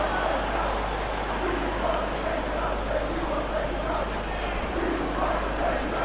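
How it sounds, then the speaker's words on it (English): A football crowd at a Manchester United match keeps up a steady roar of cheering and noise throughout, a dense continuous wash with no individual voices standing out. "the crowd clearly like what they just saw"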